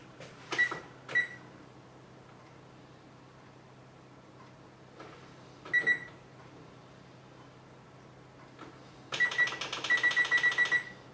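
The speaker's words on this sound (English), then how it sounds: "And we'll set the timer for 2 hours." A kitchen timer is set while oven cleaner soaks a stained grill pan. A few short, isolated beeps come first, then a quick run of repeated beeps near the end, all fairly close and clear with no talk.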